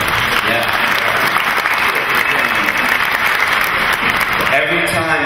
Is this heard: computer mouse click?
no